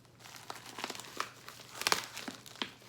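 Paper crinkles and tears up close as a mailed envelope holding comic books is pulled open, with scattered rustles building to a sharp crumpling burst near the end and no talking.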